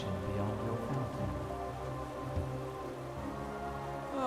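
Steady downpour of rain in the video game Hollow Knight, a dense continuous hiss of drops with game music and ambience layered underneath, fairly quiet and constant throughout.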